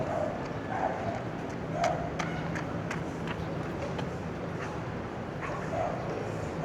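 A few dogs bark intermittently at a distance over steady outdoor ambience, with faint voices in the background.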